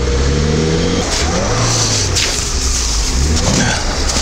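A stuck 4WD off-roader revs hard while trying to reverse out, its engine loud and close, droning and surging with pitch swings and brief wheel-spin noise, no clear talk.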